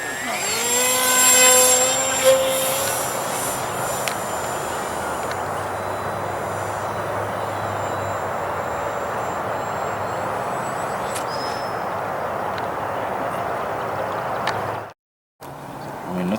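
A model airplane flies overhead, its electric motor whining loudly at first with a falling pitch as it passes, then settling into a fainter, steady drone at a distance.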